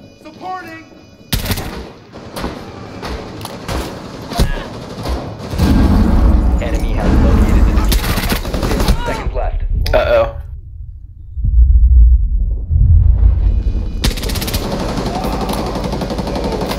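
Claymore explosions in the Rainbow Six Siege video game, several loud booming blasts in succession with a sharp cutoff to near silence before another burst, heard under a player's ongoing talk.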